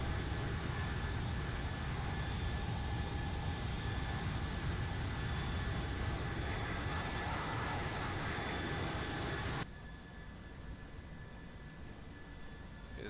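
A jet airliner's engines in X-Plane 11 roar as a loud, steady broadband rush with high whining tones, then drop abruptly near the end to a quieter, thinner hum.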